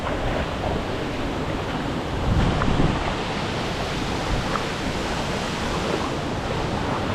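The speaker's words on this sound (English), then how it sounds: "Hopefully you can see the waterfall." Steady broadband rush of a waterfall at a hidden falls in the North Carolina highlands, continuous and fairly loud with no break, a brief surge midway and no voices.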